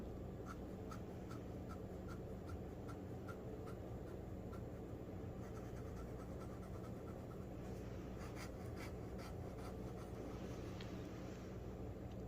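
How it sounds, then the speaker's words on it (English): A scratchy extra-fine fountain pen nib from a budget Dollar Tree Jot pen writes on paper. Faint, steady scratching strokes and small ticks run throughout, close up and quiet over a low background hiss, with no talking. "It's a little scratchy, but it's an extra fine nib."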